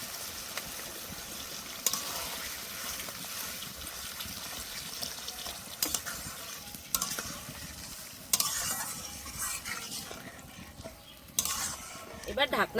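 Water is added to bottle gourd frying in a pan, giving a faint, steady sizzle and bubbling with repeated spoon scrapes and clinks against the pan, close and low in level throughout.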